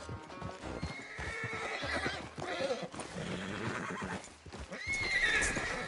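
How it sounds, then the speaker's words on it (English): A horse neighs and whinnies loudly while hooves clip-clop and stamp restlessly, close and busy throughout, in the video game Red Dead Redemption 2. "Damn horse acting up on me."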